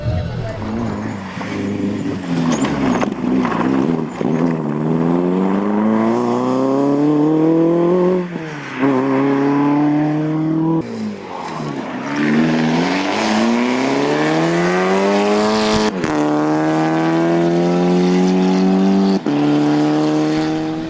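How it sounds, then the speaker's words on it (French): A Porsche flat-six rally car's engine screams up through the gears at the Rallye de la Famenne, repeatedly revving and shifting as it passes loudly nearby, with a voice speaking over the roar. "Rien que par le bruit mythique du flat 6."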